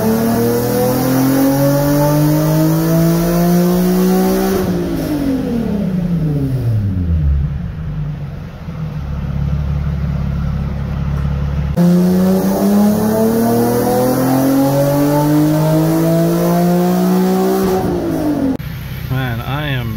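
A car with a VQ engine on a dyno winds up through two long full-throttle pulls, rising in pitch to a loud high-rpm roar, then dropping back to idle between pulls, with speech in the background.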